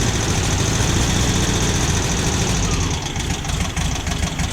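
A cold car engine runs steadily after cranking, a loud continuous idle with a low rumble and slight knocking texture, close by with no talk.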